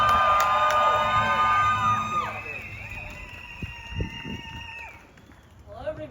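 An outdoor protest march crowd whoops and cheers loudly with high sustained shouts, some clapping mixed underneath, the cheers tapering off midway into scattered voices and a fresh burst at the end.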